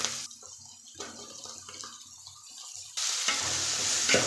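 Tomatoes added to sautéed onions in a pan for a Tamil-style nookal (kohlrabi) kuzhambu, giving a steady low sizzle that swells louder and hissier near the end, with faint clinks of stirring.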